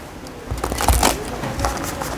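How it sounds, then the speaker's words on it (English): A Mystic Mondays tarot deck is shuffled by hand, giving soft, close riffling and flicking of cards for about two seconds with no talking. "Shuffle natin, tapos kuha tayong card."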